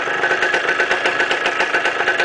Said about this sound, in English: Now it seems like it'll idle all day.